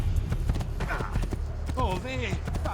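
Horse hooves clip-clop in Assassin's Creed 2, rhythmic clopping under the game sound, while someone talks over it.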